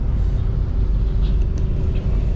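A bus rides aboard a small river ferry boat in rural Vietnam, giving a steady low engine rumble and droning hum that runs without a break for the whole stretch, with no one talking.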